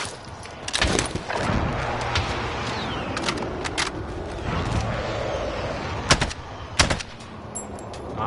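Gunshots crack out in a shooter video game with a chopper nearby: sharp single shots and short bursts stand out over a steady rumbling din, and several loud reports land near the end.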